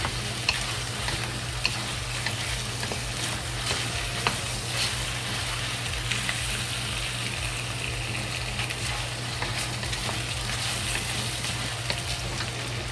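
Eggplant fries in a pan with a steady, fairly quiet sizzle and occasional stirring clicks throughout.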